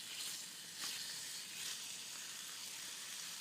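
Squirrel cooking on a BCB camp stove in the woods, giving a steady close hiss and sizzle that carries on without a break.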